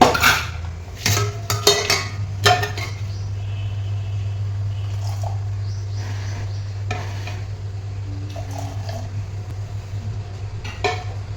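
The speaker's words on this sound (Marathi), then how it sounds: "इथं कुकर वगैरे ठेवून घेऊया" Metal utensils clatter and clank in a few sharp knocks as a pressure cooker and other cookware are set down in a kitchen, followed by a steady low hum with occasional light clinks.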